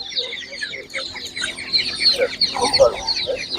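Chicks cheep in a dense high-pitched chorus at an animal market in Ivano-Frankivsk, near and continuous, with lower clucks and some background murmur mixed in.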